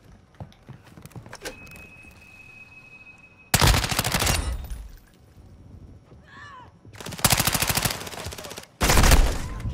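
Chopper gunner firing in Modern Warfare 2: three loud bursts of rapid automatic cannon fire, each lasting a second or two, separated by quieter gaps with faint game sounds.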